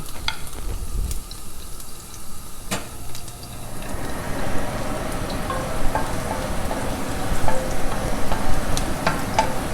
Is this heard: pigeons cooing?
no